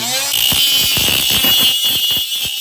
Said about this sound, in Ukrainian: Тепер беремо болгарку.